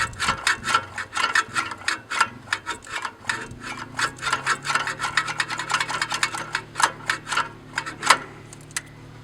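Oiled carburetor linkage on a 1973 Duster Slant Six worked back and forth by hand, a close rapid run of scratchy metallic clicks and rasping strokes in uneven bursts, with no one talking.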